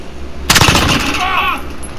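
A sharp burst of rapid gunfire in Call of Duty: several quick close shots packed into about half a second, then fading into game noise with faint whistling tones.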